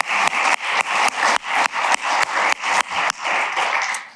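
Steady, rhythmic applause from an audience at the closing of the EASA Annual Safety Conference 2024, with close, even claps repeating quickly and evenly for about four seconds and no talking over it.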